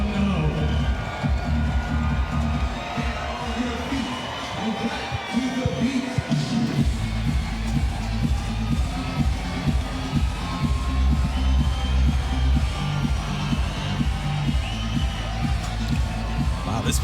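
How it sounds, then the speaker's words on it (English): Crowd noise swells and stays loud and steady throughout at the Fort Lauderdale Major 2018 beach volleyball final, an all-Brazil match, with a broad roar of cheering spectators. "The crowd getting excited, having a good time"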